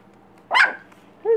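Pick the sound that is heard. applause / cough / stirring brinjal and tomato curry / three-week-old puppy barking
three-week-old puppy barking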